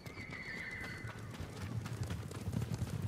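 Horses in the video game Ghost of Tsushima: a drawn-out neigh early on, then soft hooves clopping in a loose rhythm, fairly faint against a low rumbling background.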